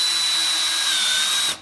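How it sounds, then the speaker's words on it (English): A cordless drill driving a screw into softwood whines steadily at high pitch for about a second and a half, then cuts off abruptly, loud and close. "I'm going to show you on this particular drill."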